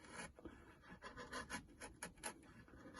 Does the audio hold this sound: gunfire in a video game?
no